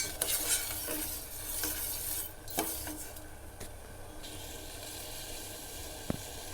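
Sugar and water syrup heats in a pan on the stove with a soft, steady hiss, broken by a few light clinks and scrapes of stirring against the pan, and no talking.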